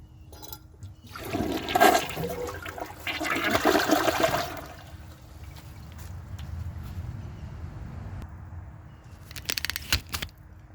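A Gerber Maxwell wall-mounted toilet flushes, a loud rushing surge of water that swells twice, then settles into a lower gurgling refill. A few sharp clicks come near the end.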